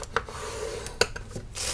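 A hand scoring tool runs along Stampin' Up! cardstock for a gold soap box, giving soft, close rubbing scrapes with a few brief sharper clicks and taps over a short quiet stretch.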